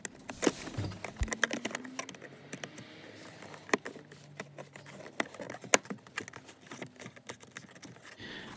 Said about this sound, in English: Now let's put back the plastic cover in the reverse way.